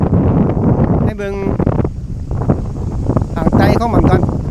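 Wind gusting across the Nuea river rapids on the Laos–Thailand border, a steady broadband rush buffeting the microphone throughout while people talk over it.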